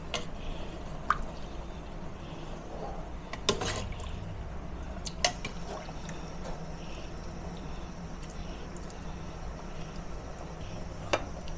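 Coconut milk from the first squeeze drips for gatang laing, making scattered soft drips and small liquid ticks over a quiet background with faint kitchen hiss.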